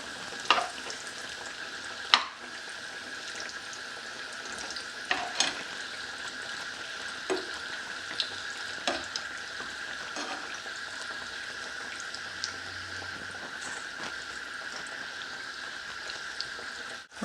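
Vegetable omelette pieces fry in hot oil over medium heat, giving a steady, close sizzle with occasional sharper pops and crackles throughout, no voices.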